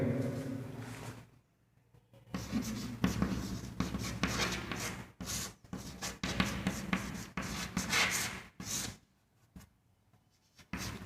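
Pen writing an observation table on paper for an Ostwald viscometer practical: steady close scratching strokes in bursts, broken by short pauses as the hand lifts and moves.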